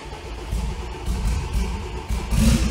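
An Audi RS3 fitted with a big turbo rumbles into life, a low uneven engine note surging in bursts and swelling louder toward the end, heard close and alone.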